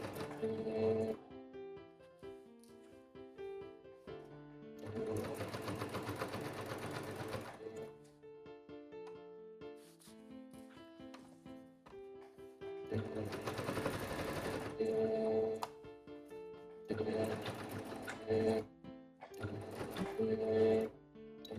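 A sewing machine reverse-stitches fabric while shortening torn toddler pants into shorts. Several bursts of rapid mechanical whirring stop and start, with quiet gaps between them.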